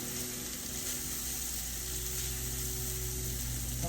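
Rice sizzles and fries in a stir fry with its juices, a steady close crackling hiss that continues evenly without a break.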